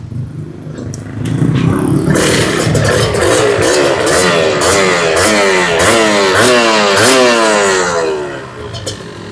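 A 90s two-stroke motorcycle, its original engine in an otherwise rebuilt bike, revs up loudly and close, its buzzing, crackling exhaust repeatedly climbing and dropping in quick throttle blips before settling back.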